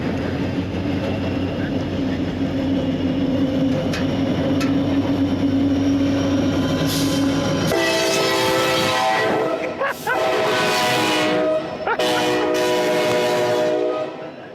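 A Norfolk Southern freight train rumbles steadily at Horseshoe Curve, then its horn blasts loudly in several long sustained blows over the rolling wheel noise, close by and dominating.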